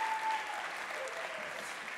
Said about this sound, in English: Yeah, clap for them, sure.